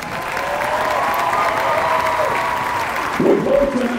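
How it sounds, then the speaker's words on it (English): Stadium audience applauding competing high school marching bands at a band invitational, a broad steady roar of clapping and crowd noise throughout, swelling slightly near the end. "Let's give all our outstanding competing high school bands one more round of applause."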